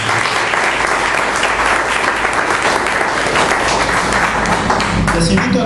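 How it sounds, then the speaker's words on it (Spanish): Loud, dense applause from a church congregation, continuous and energetic from start to finish with possible cheering mixed in. "Démosle ese fuerte aplauso."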